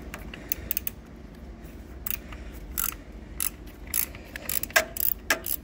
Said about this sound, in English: Took a couple more tries with the double wrench, but now it's moving.